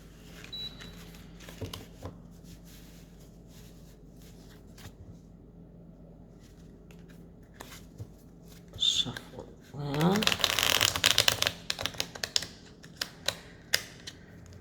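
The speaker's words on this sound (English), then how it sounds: "we'll start with a simple shuffle" A burst of papery riffling cards near the end, after a stretch of quiet room noise with faint speech.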